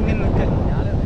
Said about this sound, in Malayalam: ഈ കാറ്റാണ് വേറെ രസമാണ്